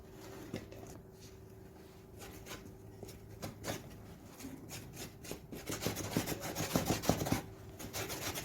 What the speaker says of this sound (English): We're rubbing gum inside the fiber in order to gum the fabric all through.